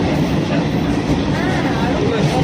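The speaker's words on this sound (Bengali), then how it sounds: "ট্রেনটা তিনটে চল্লিশে ছাড়লো" A suburban passenger train running on rails near Garia in the Kolkata area: a loud, steady rumble and rattle of the moving carriages, with indistinct voices murmuring underneath.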